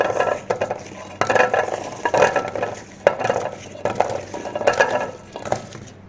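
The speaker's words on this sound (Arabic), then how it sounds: "أول ما نبدي نخلي الثوم بالقدر" Garlic is tipped into a metal cooking pot with a spoon, bringing a series of clattering scrapes and clinks in uneven bursts, up close and fairly loud, with no talking.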